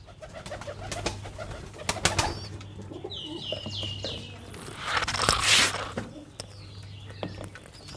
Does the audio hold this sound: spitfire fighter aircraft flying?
no